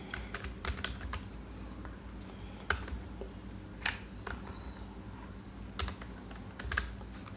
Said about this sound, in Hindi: अब आप यहाँ पे टाइपिंग शुरू कीजिए।